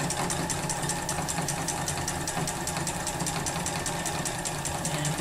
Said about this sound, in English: Here I do a little stitch, kind of a back stitch